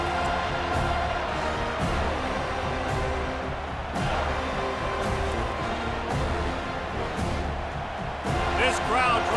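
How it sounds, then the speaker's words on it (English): A stadium crowd in the College Football 25 video game, LSU versus Florida State, roars in a sustained wash of cheering beneath continuous play-by-play commentary, with a few sharp thuds breaking through. "This crowd trying to make life miserable for this offense."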